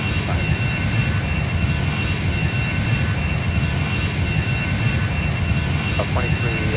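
A Boeing 777-300ER in the Airline Commander flight game sits on the runway, its jet engines giving a steady, loud broadband roar that holds throughout.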